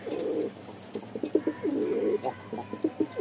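Lakkha and Giribaz pigeons cooing in a home loft, a series of soft, throaty rolling coos in short repeated bursts, close by and fairly quiet against a faint low background hum.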